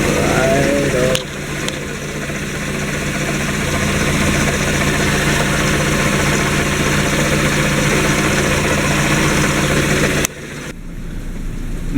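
A car engine idles steadily and evenly at close range for the whole stretch, with a faint vibration and a low, continuous rumble. It is heard on its own with no talking, and a couple of brief dips break the sound.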